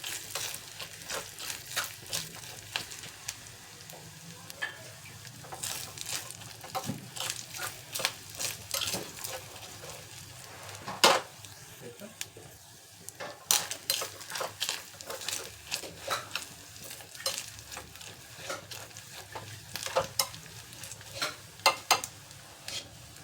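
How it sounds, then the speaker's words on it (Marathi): Grated coconut sautés in a pan for mango dal, giving a soft continuous sizzle broken by frequent sharp scraping and clinking stirs of a spoon against the pan. "नारळ व्यवस्थित परतलेले"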